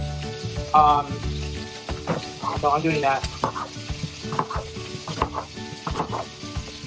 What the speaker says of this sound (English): You want to keep hearing the sizzle. If you don't hear a sizzle, your wok isn't hot enough.